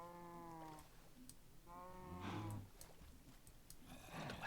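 Cows mooing in the Minecraft video game, two long drawn-out moos one after another, followed by shorter game sounds and thumps, fairly close and clear with no talk over them.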